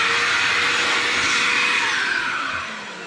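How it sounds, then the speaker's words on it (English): A DeWalt shop vacuum runs in a continuous loud whooshing roar with a steady motor whine, easing slightly in level near the end. "Also, you have your DeWalt or a vacuum of some sort, shop vac."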